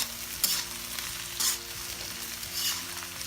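Vegetables (capsicum, carrot, onion, green onion and tomato) sizzle and fry in a hot pan for egg fried rice, with steady crackling and periodic scraping stirs, close and moderately quiet with no talking.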